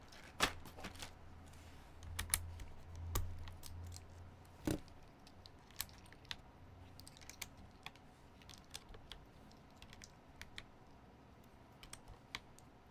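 Keyboard keycaps being pulled off and handled with a keycap puller give sparse, quiet plastic clicks and clacks, scattered irregularly and spaced well apart, with no voices.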